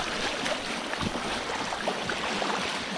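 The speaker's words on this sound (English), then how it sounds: "Go ahead and kick this out a little bit more, get that water flowing." Water rushing through a freshly opened gap in a beaver dam, a steady close-up gurgling and splashing flow with no voices.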